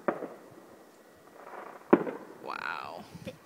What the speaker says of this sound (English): I thought they'd just do a couple of fireworks and be over.